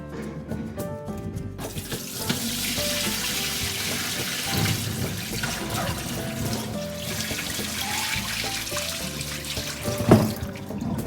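Soaked pork bones rinsed under a running tap in a sink, a steady rushing stream of water with splashing and sloshing throughout, plus a sharp knock of a bone near the end.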